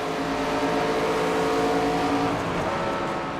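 A NASCAR stock car roars at full throttle during a night race at Phoenix in the NASCAR 25 video game, a loud, steady engine drone with a sustained high whine that eases slightly near the end, no voices.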